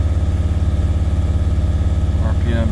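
A Mercedes T1N Sprinter diesel engine with a leaking injector runs steadily at roughly 2200 RPM, a loud, continuous low drone with a faint whine, close to the microphone and alone.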